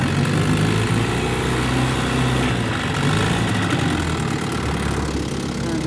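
A small outboard engine on a shoofly boat runs steadily at idle after a pull start, a loud continuous drone that holds through the whole stretch without talk.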